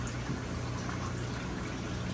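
Steady, continuous rush of water flowing back through a return pipe, an even low churning flow with no pauses.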